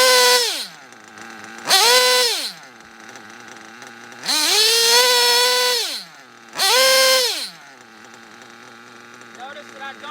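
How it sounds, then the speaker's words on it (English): A nitro engine is revved in four separate throttle bursts during carburetor tuning, each rising to a loud, high-pitched scream and then dropping back to a quieter idle between bursts. "See how it bogs down in the later stages of RPM and the high RPMs?"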